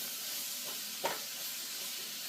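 Onions and green leek tops gently sweating in a pan for leek and potato soup, a soft continuous sizzle and hiss with a brief stir or clink partway through, no talking.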